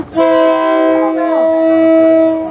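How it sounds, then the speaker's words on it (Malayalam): A loud, sustained train horn blares steadily for a couple of seconds, close by, with a slight shift in pitch partway through, as a train slowly arrives through a railway market in Thailand. "ട്രെയിൻ വരുന്നുണ്ട് എല്ലാവരും ചുട്ടുകൊള്ളുന്ന വെയിലത്താണ് ഇരിക്കുന്നത് സൗണ്ട് കേൾക്കാം നമുക്ക് ട്രെയിൻ വരുന്നുണ്ട്"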